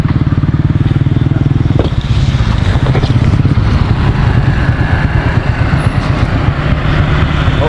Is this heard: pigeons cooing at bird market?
no